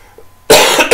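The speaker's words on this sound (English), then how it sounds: "Sorry guys about my coughing" A quiet lull, then a loud, close cough burst halfway through, followed by a second short cough at the end.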